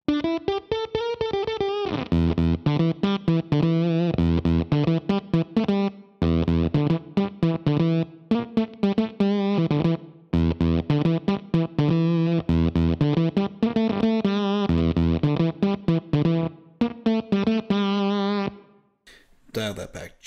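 Roy Electronics Fantasio fuzz pedal on electric guitar, producing a harsh, lo-fi, bit-crushed distorted tone with choppy, gated notes and chords played in quick bursts, loud and close for about twenty seconds.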